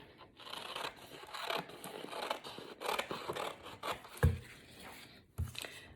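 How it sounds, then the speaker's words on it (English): Scissors snip and rasp through a strip of paper, with close, quiet crunching cuts in a steady run over a few seconds and no voices. "So I'm going to cut a little strip like that."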